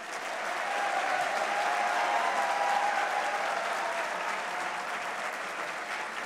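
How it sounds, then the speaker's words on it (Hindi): Audience at a humorous poetry recital gives steady, dense applause, a continuous wash of many hands clapping at even level for several seconds before cutting off abruptly. "एक बार अपने लिए तालियां मारो।"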